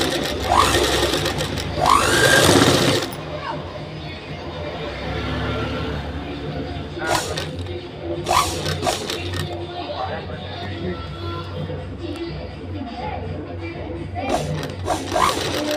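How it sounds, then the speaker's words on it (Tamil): A sewing machine stitches piping onto lining fabric, a steady close mechanical whirr running throughout with occasional clicks and louder bursts. "இப்போ நாம பைப்பிங் தைக்கிறோம்."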